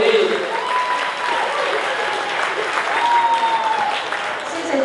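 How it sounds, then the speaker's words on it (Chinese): Sustained applause from an indoor audience at a car club's yearly gathering as two hostesses are welcomed on stage, steady and fairly close, with a faint voice carrying over it. "掌声鼓励"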